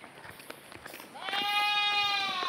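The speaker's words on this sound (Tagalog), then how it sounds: "Ang ingay pala ng kambing" Indistinct clatter gives way to a loud, sustained goat bleat that holds steady for over a second, close by.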